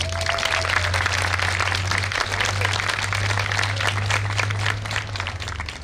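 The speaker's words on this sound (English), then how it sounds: "please give a warm round of applause to Fresno County Supervisor Debbie Poochigian" An audience at a 2016 flag-raising ceremony applauds Fresno County Supervisor Debbie Poochigian with a steady, dense wash of clapping over a low constant hum, sustained for several seconds and easing slightly at the end.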